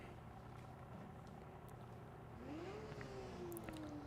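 GT3 race car engines idle and rev on the grid in the Rennsport racing video game at a night race at Spa, a faint low drone with one engine note rising and holding steady.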